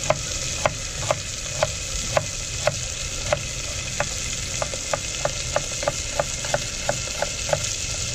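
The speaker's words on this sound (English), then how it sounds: "Slice my onions." Onions are sliced on a board at an outdoor cooking spot with a wood stove, giving a run of about twenty crisp, evenly spaced knife chops that quicken toward the end. A steady hiss or crackle runs under them and no one speaks.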